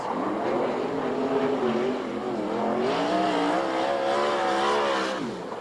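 A 360 sprint race car charges into turn 1 and out of turn 2 at Ventura, California on a qualifying lap, engine wailing steadily, then pitch surging as it accelerates and dropping sharply at the end, loud and close.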